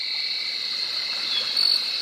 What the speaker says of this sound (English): you have the chirping of the tree crickets